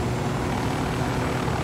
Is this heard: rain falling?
no